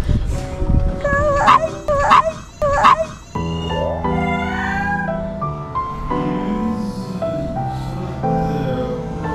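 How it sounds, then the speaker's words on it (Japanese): A dog barks repeatedly at close range in sharp loud bursts, then shifts into drawn-out howling and whining tones that carry on to the end. "ずーっと吠えて。"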